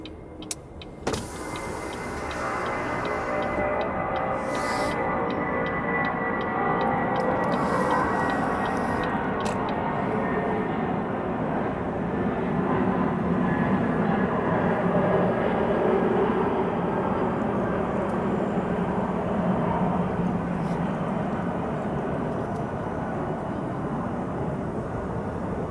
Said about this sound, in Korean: 오, 비행기다, 비행기.